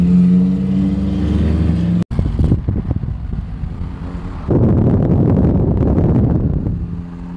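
A Lamborghini drives across the 6th Street Bridge, its engine roaring loud and close with a steady rev that swells after a sudden cut, heavily buffeted by wind noise on the microphone.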